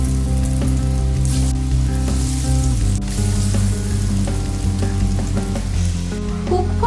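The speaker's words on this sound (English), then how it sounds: "Once the oil is enough hot, then add egg chop one by one." Egg chop frying in hot oil in a large skillet, a loud, dense, continuous sizzle with scattered pops and crackles throughout.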